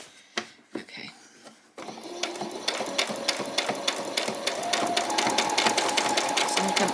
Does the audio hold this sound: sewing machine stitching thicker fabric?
yes